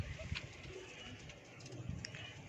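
Pigeons cooing at a loft of fancy breeds, low soft coos repeating under steady background noise, moderately near with no talk over them.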